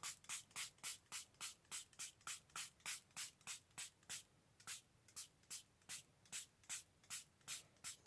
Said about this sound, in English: I'm now going to spray water all over this for the inks to dissolve